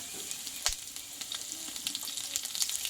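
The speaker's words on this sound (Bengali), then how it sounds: "আদা কাঁচা লঙ্কা পাঁচফোড়নের সঙ্গে একটু আমি ভালো করে ভেজে নেব" Grated ginger and chopped green chilli fry with panch phoron in a pan, a soft, close sizzle with a few light stirring knocks scattered through it, fairly quiet and with no voices.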